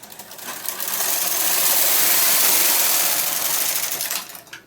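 A knitting machine carriage sweeps across the bed on the first row of a neck gaiter, a rising and fading mechanical whirring rush with clicking texture, close and fairly loud, lasting about four seconds with no voices.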